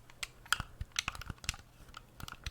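Crisp computer keyboard typing in an ASMR recording, close and quiet, with irregular clusters of sharp key clicks and taps and no voice.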